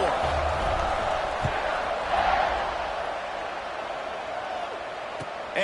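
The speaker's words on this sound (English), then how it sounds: "this crowd is buzzing after that last score" A stadium crowd at a Baylor football game roars and buzzes in a steady, broad wash of cheering that swells slightly midway, heard from a distance behind the broadcast.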